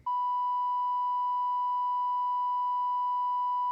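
A steady pure censor beep tone holds at one unchanging pitch for nearly four seconds, loud and alone, cutting off cleanly at both ends.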